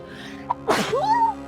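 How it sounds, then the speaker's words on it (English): A single sharp sneeze bursts out, preceded by a short intake, with a rising voiced note trailing after it, heard amid the soundtrack and sound effects of a Phoenix Wright: Ace Attorney courtroom game. "I thought I had to sneeze."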